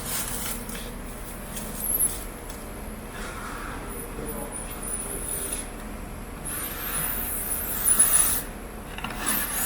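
Stretch wrap pulled tightly around a pallet carrying a Gaylord box, a steady rubbing, rasping film sound with louder swells as the wrap goes around, close and moderate in level.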